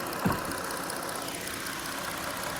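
A 2020 Chrysler Voyager's Pentastar 3.6-liter engine idles under an open hood, a steady, smooth hum at moderate level with a brief knock near the start.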